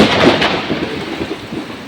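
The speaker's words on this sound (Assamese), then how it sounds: "জোৰে বৰষুণ মাৰি আছে" Heavy rain pours steadily with a deep rumble of thunder rolling underneath, loud and close throughout.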